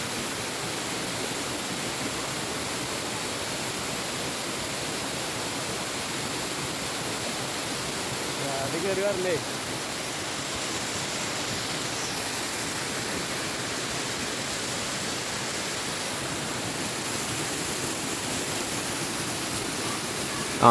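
Steady, full roar of the Cheru Chakki Chola waterfall in Thrissur district, with water pouring down over slippery forest rocks, continuous and close, with a brief voice speaking partway through.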